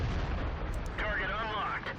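A tank cannon fires in World of Tanks, a heavy, dense boom filling the whole clip with a rumbling low tail and a wavering whine on top.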